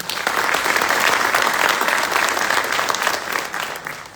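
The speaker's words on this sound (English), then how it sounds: "friends, and mentors a round of applause" Loud sustained applause from a crowd at a graduation ceremony, steady clapping throughout that eases slightly at the end.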